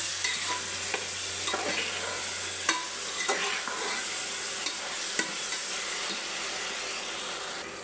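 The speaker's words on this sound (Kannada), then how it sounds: "ಇವಾಗ ಮೆಂತ್ಯ ಸೊಪ್ಪು ಹಾಕ್ತಿದ್ದೀನಿ" Fenugreek leaves stirred in a pan for menthya bath give a steady sizzle with soft scraping strokes at irregular intervals, close and continuous without speech.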